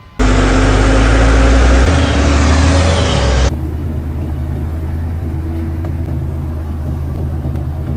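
A truck stuck in slippery mud on forest terrain roars loudly at high revs for a few seconds, then the sound cuts abruptly to a lower steady rumbling drone.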